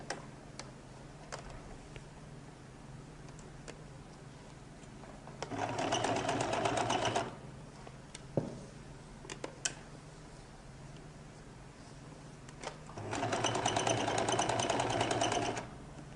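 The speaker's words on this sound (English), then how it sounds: "So I've pinned it now. I can begin to sew." A sewing machine stitches a lady's jacket in two loud, steady bursts of rapid mechanical chatter, separated by a long quieter stretch of faint handling ticks.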